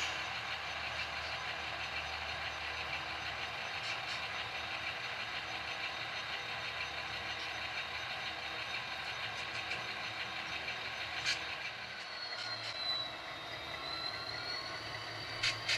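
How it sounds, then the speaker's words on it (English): A model train runs on a shelf layout railroad, giving off a faint, steady motor hum and light rolling rumble with no voices. "a train departs Bayview to deliver the next shipment of auto parts to GM"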